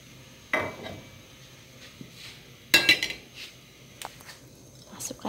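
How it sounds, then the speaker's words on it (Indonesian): Fish stirred and cooked in a pan: scattered clinks and scrapes of a utensil on metal come through at irregular intervals over a low sizzle, with a few sharper knocks standing out. "Nah, kita mau masak ikannya dulu ya."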